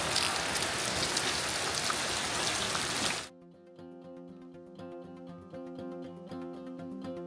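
Heavy rain pours down steadily over a flooded ranch for about three seconds, a dense loud hiss that then cuts off to quieter water sounds with faint tonal background.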